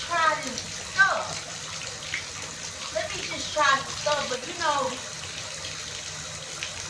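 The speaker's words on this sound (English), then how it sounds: "You see how fast that water went out?" Tap water running into a sink or tub and swirling quickly down a newly cleared drain, a steady close gush with a person talking over it.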